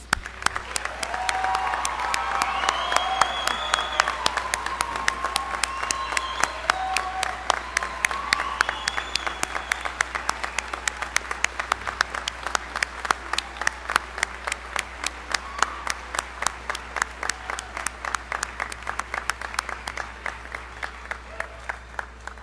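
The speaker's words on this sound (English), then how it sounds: "I invite those in attendance to join me in applauding your success" Sustained clapping from a commencement audience at Dakota State University for the graduating class, steady and full for about twenty seconds with a few voices mixed in, thinning toward distinct individual claps at the end.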